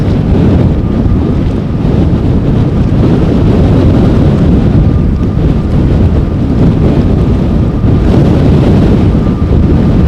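Strong gusting wind buffets and roars across a camera microphone while plane spotting at Amsterdam airport in stormy weather, a loud, constant rumbling blast with no letup from start to finish.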